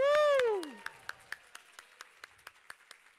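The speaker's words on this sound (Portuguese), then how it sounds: "uma salva de palmas para Joaquim Moura" Sparse clapping from an audience at a stage event welcoming a clinic director, opening with a loud whooping cheer, then a dozen or so distinct claps spaced steadily, thinning and fading.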